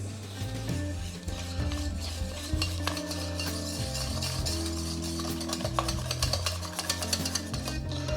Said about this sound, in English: And I'll whisk that in.